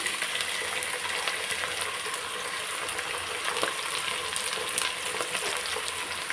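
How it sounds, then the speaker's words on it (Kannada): Tomato frying in oil for a vegetable biryani gives a steady, close sizzling hiss with occasional stirring clinks, even in level throughout and free of speech. "ಟೊಮೊಟೊ ಸೇರಿಸ್ಕೊಂಡು ಇದು ಕೂಡ ಎಣ್ಣೆಯಲ್ಲಿ 2-3 ಸೆಕೆಂಡು ಫ್ರೈ ಆಗಲಿ."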